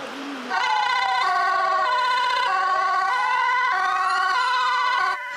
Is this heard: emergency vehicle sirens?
yes